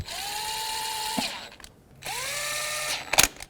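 Power tool driving valve cover bolts down on a 2002-06 Toyota Camry, two sustained whirring runs with rising pitch as each bolt bottoms out, then a brief ratcheting clatter, close up with no talking.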